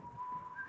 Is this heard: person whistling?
yes